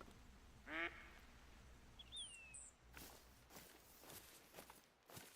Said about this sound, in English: Sound like a goose.